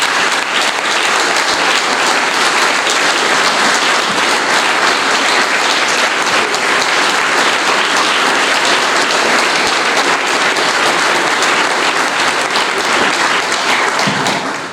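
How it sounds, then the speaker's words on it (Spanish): Loud, dense applause from a crowd at a political gathering of a UCR party committee in Trenque Lauquen, sustained evenly from start to finish. "pido otro aplauso para Daniel"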